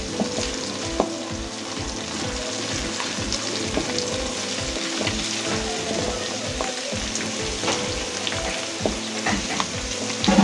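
Curry leaves and dried red chillies, with ginger, frying in hot oil for Kerala-style mango pickle, loud steady crackling sizzle with a regular scraping stir repeating about twice a second throughout.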